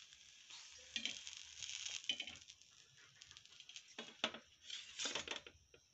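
Rava uttapam frying in oil on a pan, a steady close sizzle with soft stirring and patter, brief louder crackles around the flip, no talking.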